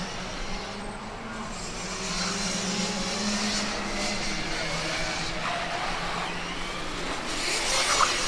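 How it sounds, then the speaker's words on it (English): Formula Student car number 94 from Esslingen runs an autocross course, a steady mid-distance engine drone that holds through the lap, with commentators talking over it. "car number 94, Esslingen, also coming around to the final straight and also into the final chicane"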